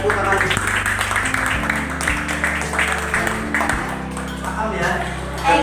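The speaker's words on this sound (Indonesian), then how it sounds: "Kita tepuk tangan." Students clapping in a classroom at the close of a lesson, a busy patter of many hands under a loud, steady electronic hum and tones that run throughout.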